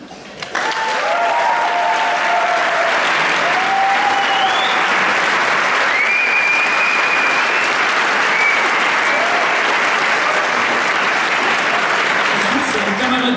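A concert audience at a showband gala applauds loudly and continuously after a quick start, with whistles and cheers rising above the steady clapping throughout.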